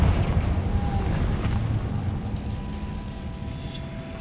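A Confringo blasting spell in Hogwarts Legacy bursts with a dull, rumbling boom that decays into a long, low roar and settles to a steady background rumble.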